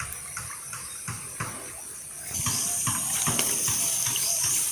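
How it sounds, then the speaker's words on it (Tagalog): A strong river current in a frequently flooded spot rushes steadily, with a few knocks early on and a fuller, louder gush taking over midway. "Malakas ang agos mga boss kasi palaging bumabaha dito."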